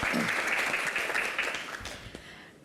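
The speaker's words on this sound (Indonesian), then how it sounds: "tepuk tangan yang paling meriah" An audience applauds, a dense burst of clapping that gradually fades out over a couple of seconds, with a voice briefly audible beneath it.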